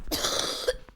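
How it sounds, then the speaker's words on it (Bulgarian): A single person coughing hard and close by, a dense burst that tails off, then a short second catch at the end, with no talking over it. "Много кашлям."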